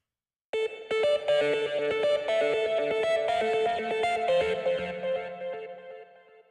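A bright, distorted synth guitar lead in the style of Tron: Legacy, made in Reason, plays a melodic line with echo and chorus effects, starting abruptly after a brief silence and fading at the end.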